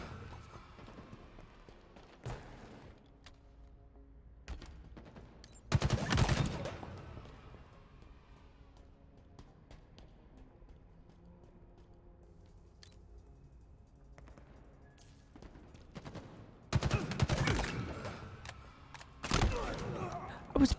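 Halo Infinite gunfire comes in a few loud, crackling bursts, one around the middle and two near the end, separated by quieter stretches of faint game ambience.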